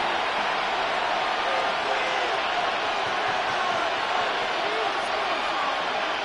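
A steady roar from a stadium crowd at a football game between the Panthers and their opponent holds a dense, constant wash of many voices with no clear surge, loud and continuous throughout.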